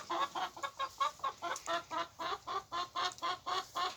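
Chickens cluck in a steady, rapid series of short calls, fairly close, with no talking.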